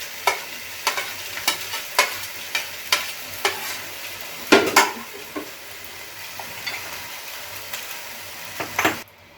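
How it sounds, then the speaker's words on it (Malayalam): Chopped onion and a pinch of salt fry in a hot heavy pan, a soft continuous sizzle cut by regular sharp scrapes and knocks of a spoon stirring, with a louder clatter near the end. "ചൂട് കട്ടിയുള്ള ഒരു പാത്രത്തിലേക്ക് നമുക്ക് ഇട്ട് കൊടുക്കാം. അല്പം ഉപ്പ് നമുക്ക്, ഒരു സവാള ചെറുതായിട്ട് അരിഞ്ഞത് നമുക്കിട്ട് കൊടുക്കാം."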